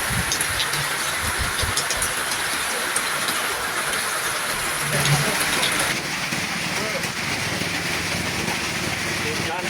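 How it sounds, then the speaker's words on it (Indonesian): Hail falling with heavy rain in Purbalingga or Banjarnegara, Indonesia, during a storm with strong wind: a loud, dense, continuous roar of pelting ice and water, steady throughout with a slight shift partway. "Hujan es, bosku."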